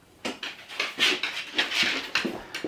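A dog named Loki pants and whimpers excitedly before a walk, a run of close, breathy bursts in uneven rhythm with no talk over them.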